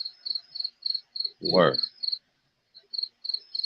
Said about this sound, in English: You can make a beat with that cricket noise in the back too